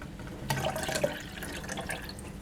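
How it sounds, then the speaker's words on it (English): Warm water poured into a container for mixing EM-1 effective micro-organisms, a short close splash and trickle starting abruptly and running steadily with small drip-like plinks. "The warm water makes it pour in easily."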